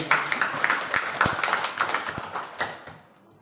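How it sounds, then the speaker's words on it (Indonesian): A group of teachers gives a brief round of scattered, close hand clapping, the sharp irregular claps fading out after about three seconds. "Tepuk tangan untuk kita semua, Bapak Ibu."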